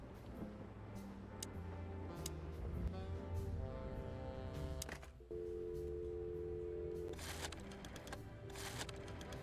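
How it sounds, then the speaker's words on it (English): A telephone in the video game Chicken Police dials a number, heard as a quiet run of mechanical clicks and ticks followed by a steady tone, faint and alone without talk. "Let's dial that and see what happens."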